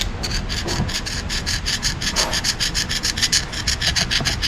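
A screwdriver is dragged repeatedly across an engine part from an engine revved to 4,000 RPM with no oil pressure, making a fast, even rasping scrape, close and fairly loud, alone.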